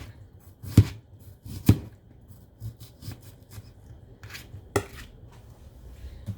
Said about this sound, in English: And so I'm just going to take one zucchini. Slice it up.